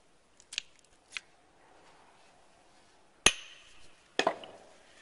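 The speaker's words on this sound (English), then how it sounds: "just going to tear the sprue off" Plastic sprue torn from a soft-plastic bait mold after injecting, heard as a few sharp snaps and cracks in two clusters, close and fairly loud against a quiet room.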